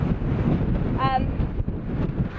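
Heavy wind buffets the microphone with low, rumbling gusts, and a brief voice-like tone cuts through the roar.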